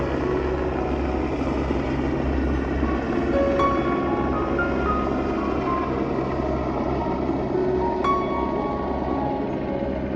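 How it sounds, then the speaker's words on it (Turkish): A continuous low drone of an aircraft passing overhead in the Swiss mountains, steady and fairly loud, with faint clicks and hum of surroundings beneath it. "Uçak gidiyor."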